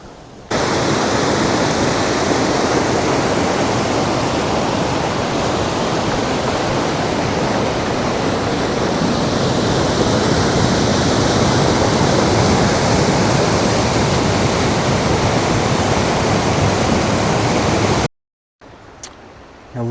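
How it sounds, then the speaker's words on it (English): Steady, full-bodied rush of river water flowing where the current opens into a calmer stretch on Michigan's Upper Peninsula, loud and unbroken for most of the clip before cutting off abruptly near the end. "The river's coming from that direction, opens up here into a nice calm portion"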